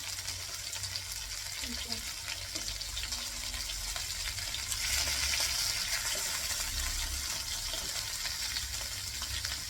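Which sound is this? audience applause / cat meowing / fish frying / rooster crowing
fish frying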